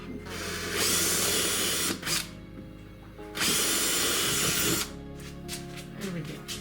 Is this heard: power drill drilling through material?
yes